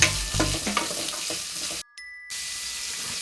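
Ingredients sautéing with salt in oily pan for rava khichdi, a steady close sizzle with a few scraping stirs near the start, briefly cutting out before the frying hiss resumes.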